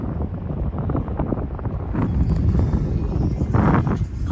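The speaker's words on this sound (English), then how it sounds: "woo, windy," Heavy wind buffets the microphone, a constant low roar of rumbling gusts with no clear voices.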